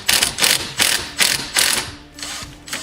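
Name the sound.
impact driver loosening Silverado steering wheel nut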